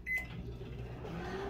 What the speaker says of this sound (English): I'm gonna put it in the microwave and let it go for about 30 seconds